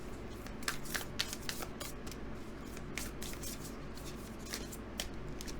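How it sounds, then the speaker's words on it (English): Tarot cards rustle and snap as one is drawn from the deck, a steady run of crisp papery flicks and taps close by over a faint hum, with no talking. "So let's draw you a final card."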